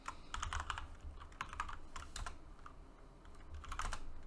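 Commands being typed on a computer keyboard during a Linux terminal session, quick clusters of close key clicks and taps with short pauses, over a low background hum.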